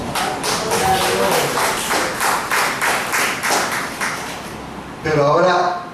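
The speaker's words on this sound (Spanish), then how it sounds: "¿Cuánto puede dar un aplauso?" A church congregation claps together in rhythmic, evenly spaced bursts, loud and close, then breaks into a brief louder swell with voices at the end.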